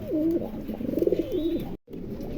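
Pigeon cooing close by, a few rolling, throaty coos in quick succession with a brief break near the end.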